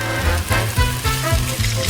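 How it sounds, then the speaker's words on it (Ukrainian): Bacon sizzles and crackles in a frying pan, a steady close hiss with a rhythmic scraping or pulsing underneath. "Тепер беремо сковорідку і підсмажуємо на ньому бекончик."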